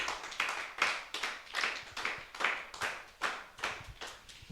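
Congregation clapping in steady rhythmic unison during a French-language church service, roughly two claps per second, close and moderately loud with no distinct cheering voices.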